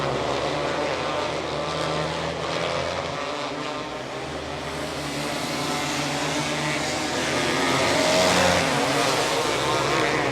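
Race cars roaring around a dirt-track-style oval during a B-main event, engine drone rising and falling continuously as cars pass, loud and sustained with a brief faint voice.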